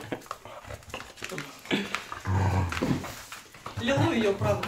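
Chihuahuas growl and snarl while playing with a pillow, rough close growls in bursts heard beneath people talking.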